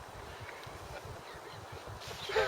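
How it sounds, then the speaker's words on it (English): Duck honking and quacking near a pond during winter pike fishing, a few calls rising at the end over steady low outdoor rumble. "Who stood on that duck?"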